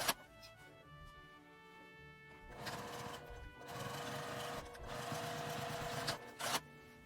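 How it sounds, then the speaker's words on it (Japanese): Sewing machine edge-stitching a fabric mask, bursts of rapid mechanical whirring and clatter separated by short pauses, heard close and alone. "裏側も端ミシンをかけます。"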